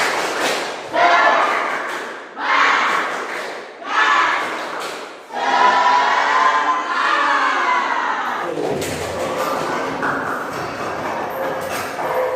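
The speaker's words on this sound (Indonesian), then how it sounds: "Tepuk semangat." An Indonesian classroom performs a spirit clap chant, voices shouting together in rhythmic bursts with claps, several separated chanted phrases building into a longer sustained group cry, loud and close.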